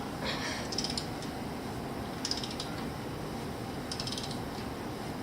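A CV joint thread on a 1996 Jeep Cherokee being cranked, giving faint clicking, ratcheting bursts in three short clusters over a low steady background hum.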